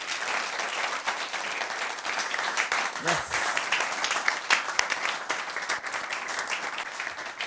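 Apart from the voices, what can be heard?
audience applause welcoming a speaker on stage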